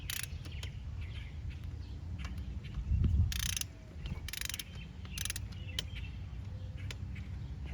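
A hand ratchet snugs down bolts while working on a 2015 Buick Verano, several short bursts of quick metallic clicking close by over a low background hum, with faint bird calls in the distance.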